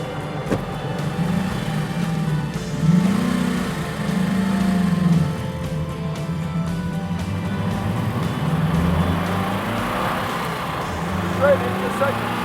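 A Mercedes-Benz 300 SLR engine drones loudly from inside the car as it accelerates through the gears, its pitch rising and falling in swells with each shift.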